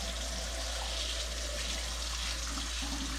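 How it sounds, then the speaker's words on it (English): Water running steadily from a tap into a sink while old vintage bottles are being cleaned, a constant, fairly faint rush with a low hum underneath and no voices. "I'm gonna turn the water on so when I dump it,"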